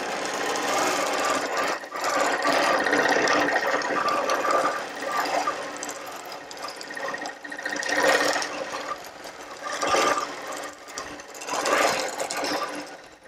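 A sewing machine runs in long bursts, machine basting through quilt layers, with a steady close whirring hum that speeds and slows, pausing briefly between runs.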